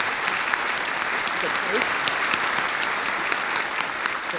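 Audience applause at the Positively Milwaukee Awards ceremony, a dense steady clapping from a large crowd lasting throughout, fairly loud and close, with a brief spoken voice over it.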